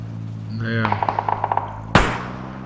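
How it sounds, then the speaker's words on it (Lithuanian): Gunfire in a video game: a rapid burst of about eight sharp shots in quick succession, followed by one louder, broader blast, with game sounds and a low steady hum beneath. "Kad čia Donce šaudo."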